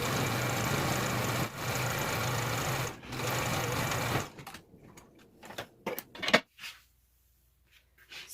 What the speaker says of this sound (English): I like to stitch my seams all going in the same direction